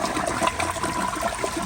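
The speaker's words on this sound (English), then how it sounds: "So here's another flush." A 1997 TOTO Carusoe toilet flushes, with a steady, loud rush of swirling water running through the whole short stretch and no talk over it.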